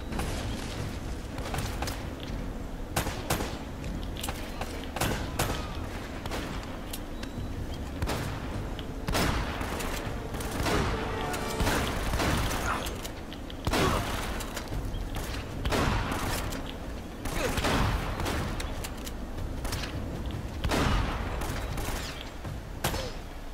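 Gunfire in the video game Uncharted: Drake's Fortune rings out as repeated sharp shots and bursts over a busy background of game sound, moderately loud and spread irregularly throughout.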